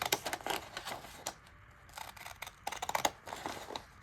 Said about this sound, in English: I think I'm just going to slightly undersize it by using the ripple scissors all around.